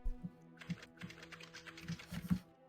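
Keys on a computer keyboard tapped in short, uneven bursts, quiet and close, with brief pauses between clusters of keystrokes and no talking.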